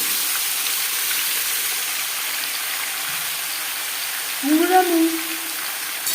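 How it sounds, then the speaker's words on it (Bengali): Pumpkin and mustard seeds hitting hot mustard oil with panch phoron and dried red chilli, a loud steady sizzle and hiss throughout, with a brief voice heard near the end. "দিয়ে দেবো কুমড়ো আর দিয়ে দেবো সর্ষে"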